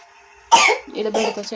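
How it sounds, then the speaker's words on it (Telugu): A man gives a single sharp, close cough, followed by brief throaty sounds. "మళ్ళీ దగ్గుతాడు"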